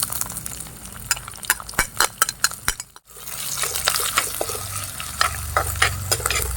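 Shallots, dried and green chillies, curry leaves, ginger and garlic fry in coconut oil for a Kerala-style beef and koorka curry, with a steady sizzle, spoon scrapes and stirring clatter close by, a brief gap midway, then renewed frying.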